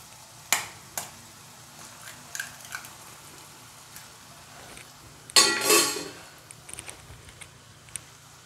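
Two eggs are added to spinach frying in a pan and stirred in with a utensil. Scattered scrapes and clinks against the pan lead to a short, louder burst of sizzling midway, followed by lighter taps.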